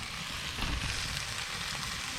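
Steady broadband sizzle of liver and onions frying in a pan, a constant crackling hiss with no voices.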